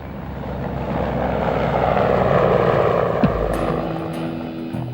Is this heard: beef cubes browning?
no